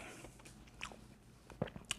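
Someone bites into crunchy pan-seared bluefish with the skin left on, giving faint, quiet crunches and chewing with a couple of sharper bites near the end, with no talking.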